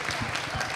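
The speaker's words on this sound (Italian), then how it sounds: "applauso a Paolo" A short burst of applause for a guest at an Italian film behind-the-scenes event: dense, steady clapping from a small audience, heard close.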